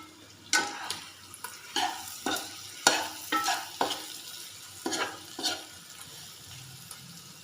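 Tomatoes frying in a pan, sizzling steadily while a utensil stirs and scrapes them in a series of close, uneven strokes, with no voices.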